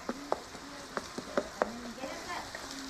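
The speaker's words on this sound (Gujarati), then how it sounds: "હવે આપણે એને હલાવી નાખીએ." Mung dal with spinach (palak) being stirred in a frying pan, with a soft sizzle under a series of short, irregular scraping strokes of the spoon against the pan, close and fairly quiet.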